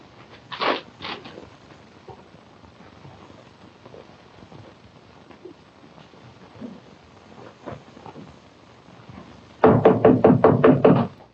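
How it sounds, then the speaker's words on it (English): Knocks on a door in an old radio drama, a quick pair of raps, quiet rustling, then a rapid loud series of knocks near the end. "You didn't do the secret knock."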